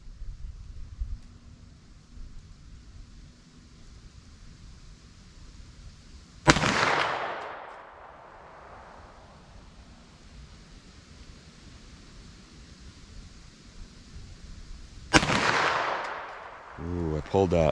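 Two sharp, loud pistol shots about nine seconds apart, comparing .357 Sig and 9mm+P Corbon Classic JHP rounds fired into ballistic gel, each crack trailing off in a short echo over quiet outdoor background.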